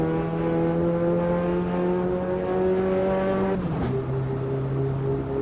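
A Puma P052 GT5 race car with a rear-wheel-drive straight-four engine in Automobilista 2 at the old Kyalami circuit drones at steady high revs, then briefly drops pitch on a gear change before holding again, loud and continuous with no talk.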